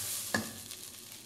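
A spoon scrapes once as rice is stirred in a stainless steel pan, followed by a soft, faint sizzle with no voices.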